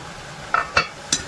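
Vegetables stirred and roasted in a pan, a soft sizzle under three distinct spoon scrapes against the pan spaced a few tenths of a second apart.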